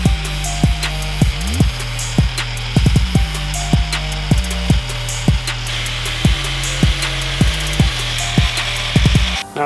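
Cutting away mud-covered off-road vehicle fender flares, a loud rhythmic rasping of repeated sawing strokes with sharp scrapes at each stroke, steady and close, no voices.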